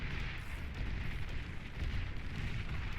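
Tanks exploding in the real-time strategy video game Beyond All Reason, a continuous rumbling barrage of overlapping booms and blasts, loud and dense throughout with no talk.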